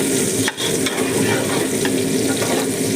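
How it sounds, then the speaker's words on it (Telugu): Onion fries in a pan for mutton majboos, a loud close steady sizzle with a brief scrape of stirring near the start, no voices. "ఈరోజు మిక్సీలో ఒక ఆనియన్ అయితే ఫ్రై చేస్తున్నాను"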